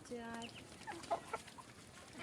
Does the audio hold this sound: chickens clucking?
yes